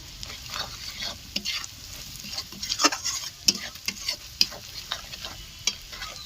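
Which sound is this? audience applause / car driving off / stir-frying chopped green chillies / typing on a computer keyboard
stir-frying chopped green chillies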